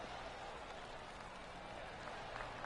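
Polite golf clap from the gallery at a PGA tournament, a soft, steady patter of scattered hands heard faint and distant under a broad outdoor hiss.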